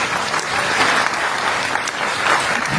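Audience applause at a fan event with Stargate actors, a steady dense wash of clapping filling the whole stretch without a break, close and fairly loud.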